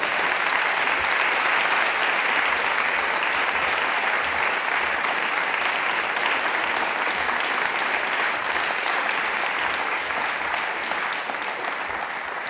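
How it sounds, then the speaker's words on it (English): Sustained applause from a book-launch audience welcoming George Monbiot, author of 'Feral' on rewilding, at a COIN event; dense, steady clapping that fills the whole stretch and eases slightly near the end. "could you give him a round of applause?"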